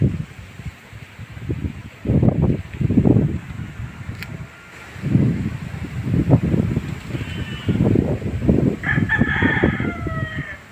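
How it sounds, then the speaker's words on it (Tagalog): Pet chickens at a riverside spot, with roosters crowing loudly in several long, repeated calls close by and hens clucking between them, along with light rustling in an open-air setting. "ang mga alaga ko, mga manok"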